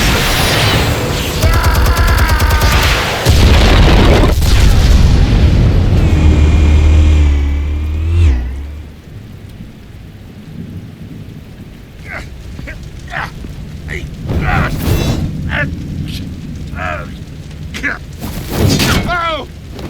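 Explosives detonating in the Batman Telltale game: a heavy roaring blast with deep rumble and debris lasting several seconds, then fading into lower ambience with scattered impacts and a voice speaking.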